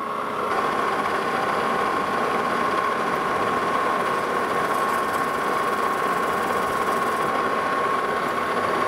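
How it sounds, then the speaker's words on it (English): A metal lathe turning a steam locomotive steam pipe ring runs with a steady, continuous mechanical whir and hum, loud and unbroken throughout, with no one talking. "Speed this lathe up a little bit."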